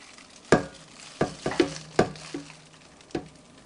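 Whole wheat flour is added to a Zojirushi Virtuoso breadmaker, heard as a few soft, close knocks and scrapes spaced irregularly against a quiet background.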